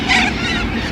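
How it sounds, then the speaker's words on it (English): Agitated fowl call in a short, harsh, honking burst lasting under a second, close and fairly loud over a noisy background. "All the birds are freaked out and only one has stayed."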